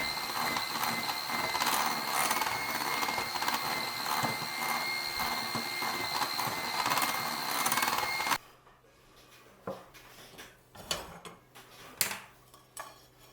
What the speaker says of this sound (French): On va ajouter le beurre fondu refroidi et on continue de mixer.